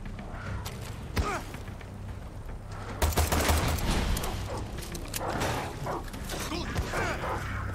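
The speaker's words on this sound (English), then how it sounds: "Who is firing at me?" Gunfire in a video game, bursts of rapid shots and sharp cracks with heavier bangs around the middle, mixed with voices talking over the fight.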